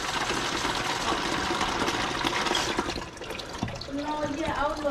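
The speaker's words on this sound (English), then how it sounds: "All right, I got water flow." Water rushes through a valve on a McQuay water-source heat pump in a steady, loud gush that eases slightly near the end, with a voice speaking briefly over it.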